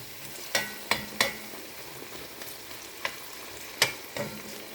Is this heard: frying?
yes